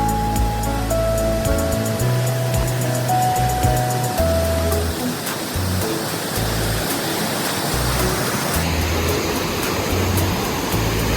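Kaaterskill Falls in New York heard from the top of the falls, a loud continuous roar of rushing water that stays dense and steady throughout.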